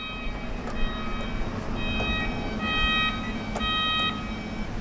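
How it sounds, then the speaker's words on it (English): An electronic alarm monitoring oxygen, temperature and water at a roadside facility storing live glass eels sounds as steady high beeping tones with intermittent repeating pulses, over constant low machinery hum. "Why is that alarm going off?"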